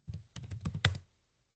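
Keystrokes on a computer keyboard as a su root command is typed: about a dozen quick, close taps in an uneven burst lasting about a second, then silence.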